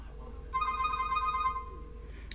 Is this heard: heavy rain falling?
no